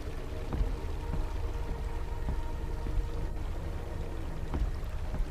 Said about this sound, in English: I can definitely hear water running.